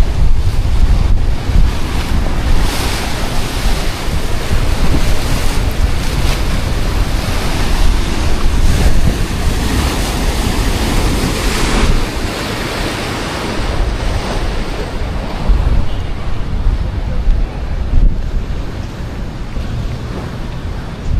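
Strong wind buffets the microphone over the steady rush of ocean waves at the Dumaguete seafront, loud and unbroken throughout.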